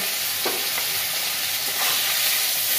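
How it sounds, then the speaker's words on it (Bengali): Fish rubbed with salt and turmeric frying in oil in a wok, a constant bright sizzle with a few soft stirring scrapes, close and uninterrupted by talk. "তারপরে লবণ হলুদ তেলের ওপরে দিয়ে দিলাম মাছটা।"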